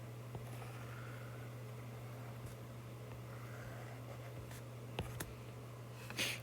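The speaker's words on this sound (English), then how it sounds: "Okay, knowing that, we can draw it now." A pen sketching a graph on paper, soft faint scratching strokes over a steady low hum, with a few sharper taps near the end and no voices.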